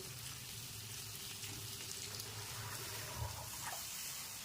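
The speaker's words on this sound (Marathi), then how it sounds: "त्यामध्ये आता मी पाणी टाकते" Water is poured into a cooking pot of puri bhaji vegetable mixture, giving a soft, low, continuous splashing and sizzling that stays faint throughout, with no voices.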